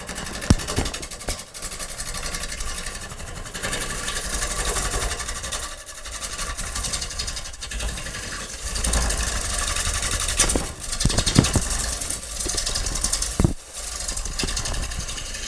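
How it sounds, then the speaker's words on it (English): Wood lathe spinning a bowl blank while a gouge makes a scraping cut, hollowing out the inside, giving a steady, continuous whirring hiss with rough, uneven scraping texture and brief dips where the tool lifts off. "And then I'll start removing the inside. So this is a scraping cut."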